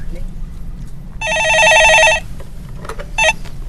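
A telephone rings with one long electronic trill burst, followed a moment later by two shorter bursts, heard close and clear over a low background hum.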